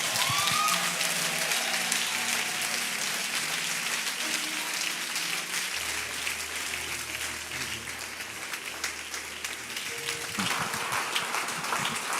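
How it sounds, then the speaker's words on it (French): A church congregation applauding and cheering during a worship service at a temple, a steady broadband wash of many hands clapping that continues for about twelve seconds, with low organ or keyboard tones sustained underneath. "Est-ce que nous pouvons encore acclamer correctement?"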